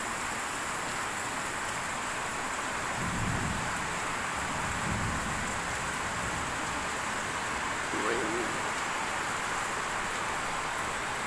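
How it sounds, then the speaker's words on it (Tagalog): Steady broadband hiss of heavy afternoon rain, fairly faint and constant throughout, with a couple of soft low thunder rumbles partway through. "Ngayon lang lumakas na. Umulan ng malakas."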